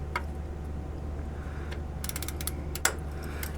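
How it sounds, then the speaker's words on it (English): A 3/8-inch ratchet snugs down the automatic transmission drain plug on a 1998–2002 Honda Accord with the 4-cylinder F22/F23 engine, giving a few sparse, quiet clicks over a steady low hum, with one sharper click near the end. "Get a 3/8 ratchet, no socket on the end, just a 3/8 part."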